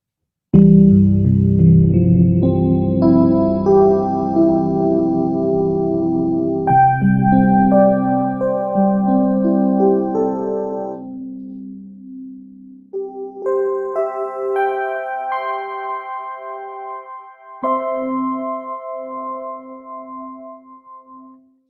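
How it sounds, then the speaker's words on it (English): Korg opsix FM synthesizer playing a DX7-style electric piano patch, bright bell-like chords and single notes with chorus and echo, loud and sustained, fading between phrases, no talking. "what you just heard was a example of what the DX7 got eventually became famous for, which are piano sounds"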